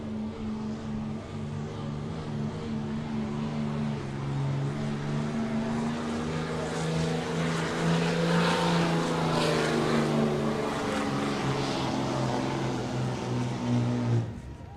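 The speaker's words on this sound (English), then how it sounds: "we're gonna go over to the diesel trucks. Tyler Morrell coming out of Mad Axe. First up on the hook, 2014 Dodge" A 2014 Dodge diesel pickup pulls a sled at a 4-H fair truck pull, its engine roaring loudly and steadily for about fifteen seconds with a deep droning tone that rises slightly before cutting off.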